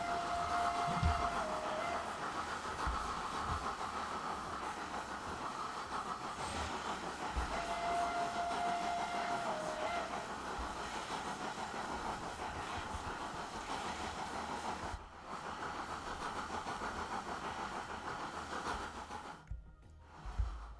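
A train runs along rails in the video game Transport Fever 2, a steady rolling rumble with a couple of faint whistle-like tones, continuous and fairly close with no talk over it.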